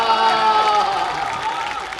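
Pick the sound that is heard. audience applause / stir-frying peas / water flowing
audience applause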